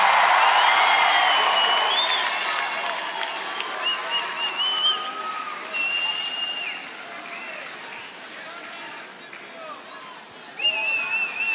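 Large London festival crowd at a concert cheering and applauding loudly, with whoops and shouts; the roar fades slightly midway, then swells again near the end.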